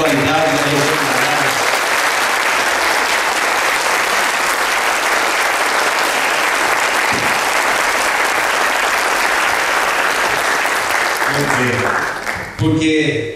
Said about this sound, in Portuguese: Vamos aplaudir a 20ª edição do SEAR